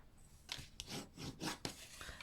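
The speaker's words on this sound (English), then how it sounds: "what I want to do now is just to burnish these diagonal score lines" Burnishing tool rubbed along diagonal score lines on a paper gift box, making several short, close, soft scraping strokes in a quick uneven rhythm.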